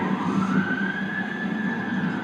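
A police car siren wails at a distance, a steady rising tone held across the clip over background traffic.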